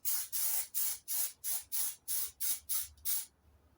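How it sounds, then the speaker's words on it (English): Spray glue from an aerosol can misted onto a heater box part for a 1970 MGB GT, ten short even hissing bursts in steady rhythm, close and fairly quiet, ending in silence. "I'm going to put a bit of spray glue on this."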